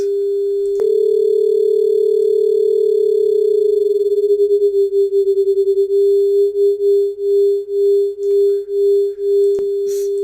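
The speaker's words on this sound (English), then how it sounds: "So here it's beating only at 2 times a second." Two pure sine tones sit close together near 400 Hz, producing a loud steady hum whose slow beating starts as a smooth tone and settles into a regular pulsing at about two throbs per second.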